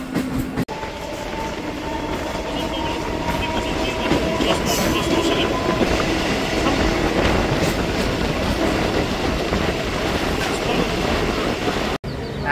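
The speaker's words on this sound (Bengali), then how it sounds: "তো ট্রেন ছেড়ে দিয়েছে অলরেডি" A moving local train running from Sealdah to Naihati, heard from inside the carriage: a continuous loud rumble with clattering wheels and rattling, plus a faint squeal early on.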